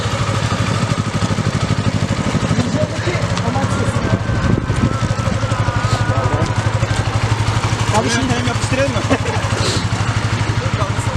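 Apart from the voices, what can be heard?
motorcycle engine running and idling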